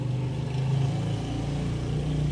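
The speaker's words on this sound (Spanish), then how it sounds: "se escucha un carro" A large car passing outside, a low, heavy engine rumble with droning tones that swells slightly midway and stays prominent, heard without talk.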